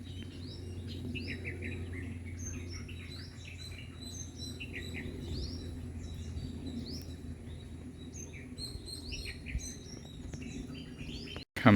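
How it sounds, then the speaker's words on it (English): Birds call outdoors along a quiet vegetated off-road trail in Auroville, repeated bright chirps scattered over a steady insect and ambient hum, with a brief bump at the very end. "Look at this bird."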